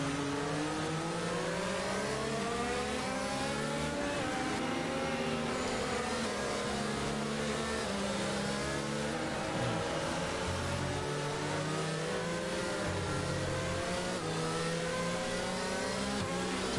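F1 22 racing cars at the Singapore GP driving behind the safety car, several engines droning and revving with shifting pitch, loud and continuous, with no talk.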